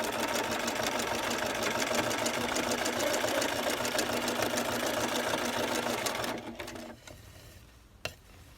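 A sewing machine sews a lace hem on a skirt, running in a loud, continuous rapid whir for six seconds before winding down, then a single sharp click.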